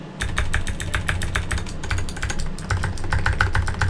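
Clicky mechanical switches on a Keychron K4 96% keyboard clatter in a steady, fast typing run, close and fairly loud, with a short pause midway before the keystrokes resume.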